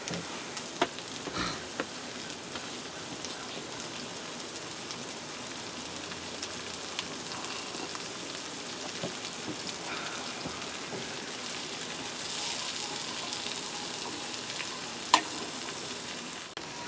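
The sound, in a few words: onions frying in a pan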